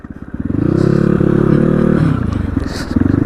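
A Suzuki RM 250 dirt bike engine throbs close by on a forest off-road group ride, a loud pulsing two-stroke note that swells, holds, then drops back to idle chugging.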